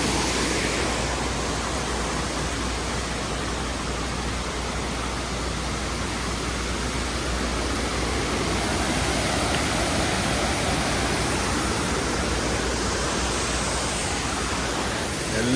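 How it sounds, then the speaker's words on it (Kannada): A waterfall at the Nethravathi secret falls roars in a constant, dense, broadband rush of water, loud and close, steady throughout with no voices. "ಇಲ್ಲೊಂದು ಫಾಲ್ಸ್ ಇದೆ."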